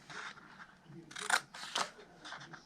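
Scissors snip apart small squares of patterned paper for a Christmas treat box, a few crisp close cuts in quick succession, quiet and unaccompanied by talk.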